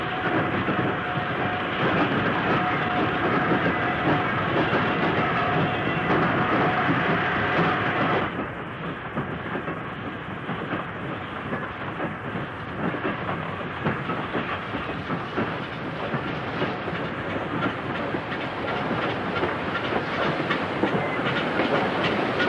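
Steam locomotive 75043 shunts in sidings at Adswood in 1964. It makes a continuous, close rumble of rolling wagons with steady clickety-clack, which eases slightly partway through.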